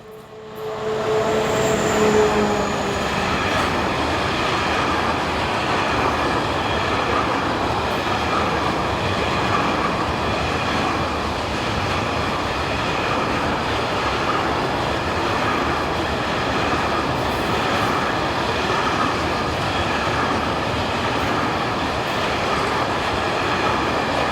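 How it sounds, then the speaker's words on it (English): Freight train of empty wood chip wagons hauled by SETG locomotive 1700-03 north of Weisau, Austria, rolling past in a steady, loud, continuous rumble with wheel and wagon noise throughout, no voices. "a new twice-weekly trainload of wood chips has been operating from Weisau to Gratwein in Austria"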